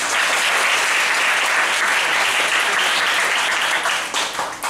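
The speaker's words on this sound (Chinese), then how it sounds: "那我们就掌声拍手欢迎他们。" Steady, loud audience applause welcoming speakers to a talk, sustained dense clapping from a crowd for several seconds, easing slightly near the end.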